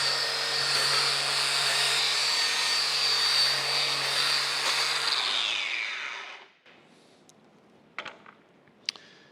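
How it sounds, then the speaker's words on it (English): A wire wheel on a power tool scours a cane mill shaft with a loud, steady whirring scrape for about six seconds, then spins down and stops, leaving faint clinks. "I'm just going to basically just go around this shaft and just clean that up"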